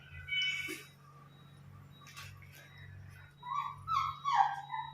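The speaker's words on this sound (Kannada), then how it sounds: "ಪರಿಮಳಕ್ಕೆ ನಮ್ಮ ನಾಯಿ ಕೂಡ ಓಡಿ ಬಂದಿದೆ" A dog whimpers and whines softly near the start, then gives a few higher, squeaky yelps toward the end over a low hum.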